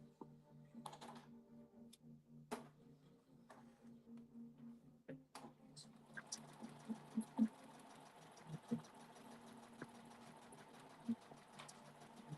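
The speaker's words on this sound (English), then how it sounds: "We're gonna do the top stitch and keep it moving." A sewing machine top stitching a fanny pack upcycled from a dust bag, first in short stop-start bursts with quiet clicks between, then running in a longer steady whirring stretch, close and fairly soft.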